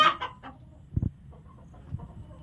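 Country hens cluck in short bursts, nearby, with a few louder clucks standing out over a low farmyard murmur.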